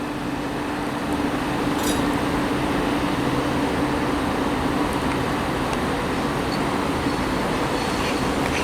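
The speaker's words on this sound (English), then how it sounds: "There's one train coming in." A train pulls into a London mainline station on the southwestern line, a steady broad rumble of wheels and engine noise that holds level throughout, with faint squeals and station ambience around it.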